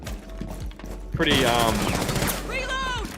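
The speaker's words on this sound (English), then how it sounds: "I've got one of the best guns in the game, the R4C" Bursts of R4C assault rifle fire from Rainbow Six Siege ring out loud and close, with rapid shots over game noise and a trailing echo, while talk runs underneath.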